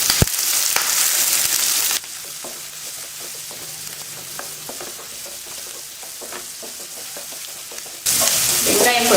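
Onion, curry leaves and green chili sautéing in a hot pan for egg podimas, a steady sizzle with stirring scrapes that drops quieter in the middle and then swells again.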